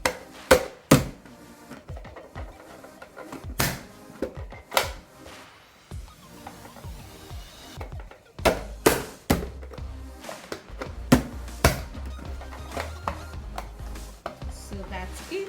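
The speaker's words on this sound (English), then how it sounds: "just hit it and get my onion sliced right there" Repeated sharp thunks and chops from a hand-struck onion chopper slicing an onion, coming in uneven bursts of hits, some doubled, close and fairly loud over a quiet kitchen background.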